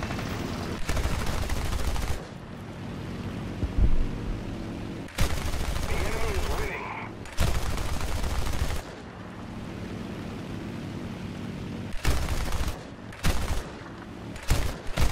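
Bursts of rapid, heavy aircraft cannon fire from an A7M2 Reppu in War Thunder come in long and short volleys, loud and close, separated by quieter engine drone.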